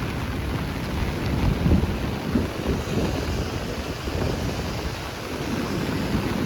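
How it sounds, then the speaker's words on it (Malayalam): Heavy rain pours down in a dense, steady roar at a seashore, with gusts of wind buffeting close by and no voices. "കേട്ടോ, നല്ല മഴയാണ്."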